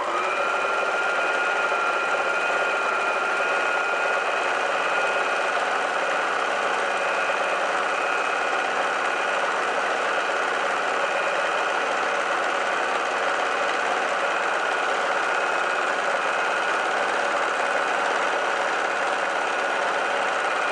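A sewing machine stitches fabric for a cushion cover in one long unbroken run, a steady fast buzzing hum close by with no pauses.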